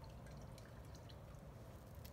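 Liquid compost tea drains from a brewer bag, making a faint, steady dripping and trickling that sits low under broad background noise.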